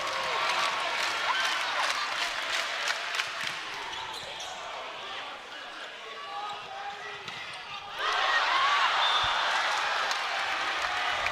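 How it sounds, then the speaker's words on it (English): A college volleyball arena crowd at a UC San Diego vs UCLA match roars on set point, then dips before swelling loudly again, with a voice over the cheering. "Just listen to that crowd."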